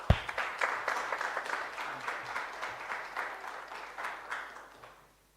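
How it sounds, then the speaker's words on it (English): An audience applauding at an academic talk at UNISA, a steady round of clapping from a moderately sized crowd that fades out after about five seconds. "let's give him a round of applause"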